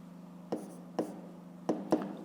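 Writing divisors by hand on paper for a fifth-grade maths exercise, a few soft scratchy pen strokes and taps spaced irregularly over a steady low hum.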